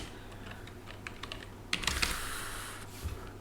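Keys clatter on a computer keyboard in quick bursts of light taps, with a denser flurry partway through, close and fairly quiet, with no talking.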